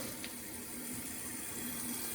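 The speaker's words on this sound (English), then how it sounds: "Now we're going to turn the water back on and let it refill." A toilet tank refills with water from the supply valve after a flapper replacement, a steady hissing rush of water running without pause.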